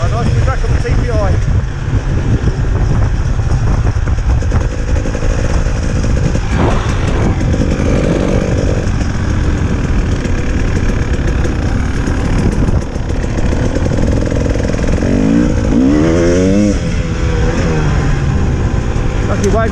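A 2019 KTM 300 EXC TPI two-stroke dirt bike rides off road on slippery Fens ground, its engine buzzing loudly and continuously with revving rises and falls, close to the rider, with occasional talk over it.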